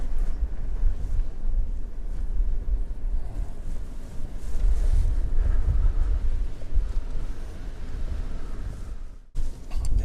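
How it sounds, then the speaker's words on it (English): Strong gusting wind of around 45 to 50 mph on the Mt. Washington Auto Road buffets the microphone in a heavy, continuous low roar, loud and unbroken, with no talking. "At 45, 50 miles an hour winds up there"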